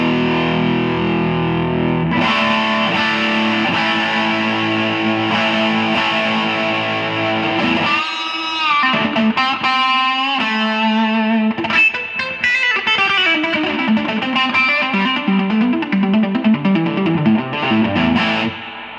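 An electric guitar played through a Rivera Clubster Royale NRG 10-inch 50-watt amp roars with heavy distortion, sustained chords giving way to choppy riffs and fast single-note runs, loud and up close.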